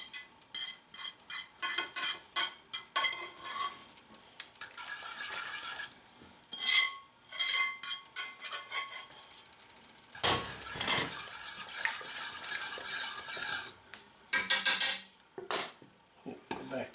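A spoon stirs a thickening tomato, dill and basil soup in a pot, producing repeated scraping and clinking strokes against the metal in irregular bursts, some sharp and close, with brief pauses between.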